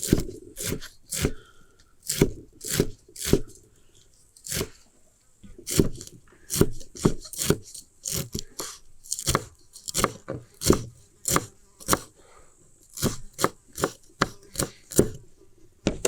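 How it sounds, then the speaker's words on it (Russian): Rapid knife chops through cilantro on a cutting board, sharp taps in uneven bursts with brief pauses, close and fairly loud, no talking. "Теперь берем кинзу и нарезаем ее как можно мельче"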